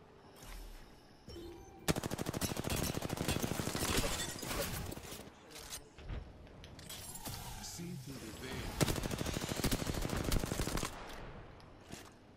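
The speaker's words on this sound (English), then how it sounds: "What are you shooting with? 30-30? This is 30-30." Rapid rifle fire from a 30-30 in an online shooter, shots crackling in dense bursts across most of the stretch with brief lulls, while players talk over the action.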